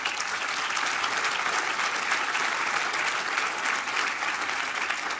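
Sustained applause from a large university audience at a talk by a Supreme Court justice, dense and even clapping that holds at a steady loudness throughout.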